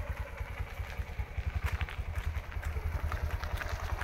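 A motorcycle engine idles alone after repair with an engine change, a steady rapid low putter with a faint rattle, close and even throughout.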